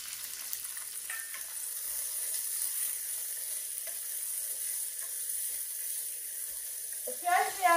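Onions fry in oil with ginger and garlic in a pan, a soft, steady sizzle running throughout, with a brief clatter of stirring near the end.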